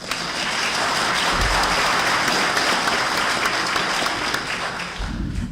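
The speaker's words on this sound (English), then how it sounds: "we'll do another round of applause, if we could" An audience at a candidates forum gives a round of applause, steady loud clapping from a large crowd lasting several seconds before easing off at the end.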